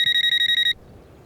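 A telephone rings with a bright electronic trill, a rapid pulsing tone that stops abruptly after under a second, leaving quiet room tone.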